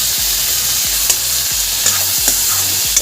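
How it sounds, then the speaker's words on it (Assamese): Tomato masala fries in a pan under constant loud sizzling, with a spatula scraping and tapping the pan in an uneven rhythm, a few sharper clinks standing out, nearby and no voices. "এতিয়া এইখিনি ভালদৰে ভাজি ল'ম"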